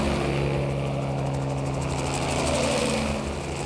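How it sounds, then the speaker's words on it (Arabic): An aircraft, apparently a helicopter, passes overhead at a wedding celebration in Hebron, giving a loud, steady droning rotor and engine sound that holds throughout. "شو هذا الطيارة"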